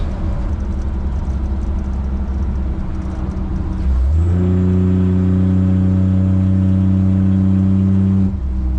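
A Chevrolet Squarebody truck engine drones steadily while driving with the windows rolled up, a loud, even low rumble inside the cab that shifts to a smoother, higher tonal hum partway through as it accelerates.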